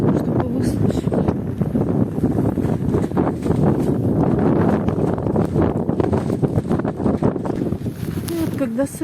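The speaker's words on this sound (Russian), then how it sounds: "Вот такой ветер" Strong, freezing winter wind on a frosty, icy day in Odessa roars and buffets continuously and loudly for the whole stretch, with gusts rising and falling and no one speaking.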